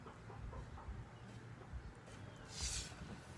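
Chickens cluck in short, scattered bursts over steady background noise, with a louder squawk near the end.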